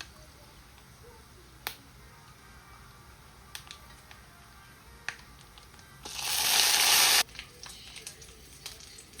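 Curry leaves hit hot oil for tempering sambar, giving one loud, close burst of spluttering sizzle lasting about a second, set between a few sharp crackles and pops in an otherwise quiet kitchen.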